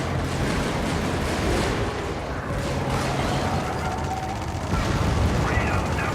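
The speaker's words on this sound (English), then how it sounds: "Taking my time with my shots to make sure that my bullets are effective." Gunshots from the player's gun in a video game set among bug patrols, vehicles and exosuits, a dense run of shots and blasts under a constant rumbling din, with a voice talking over part of it.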